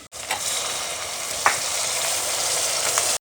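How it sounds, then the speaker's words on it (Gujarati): Tomatoes tipped into a hot pan while cooking Kathiyawadi-style roasted eggplant bharta, giving a loud, continuous sizzle with a couple of short stirring clinks. "હવે આપણે નાખી દઈએ એમાં ટમેટા"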